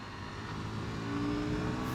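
A KTM 990 Duke motorcycle engine pulling hard under acceleration, a continuous rising growl that swells louder over two seconds, heard steadily from up close.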